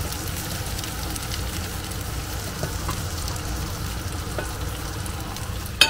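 Steady sizzling and crackling of sausages frying in a pan, close and continuous, with a sharp clink at the very end.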